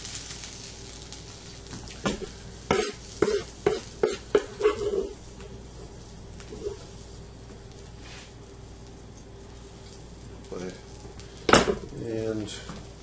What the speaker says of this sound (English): Taking the greens, putting the greens in.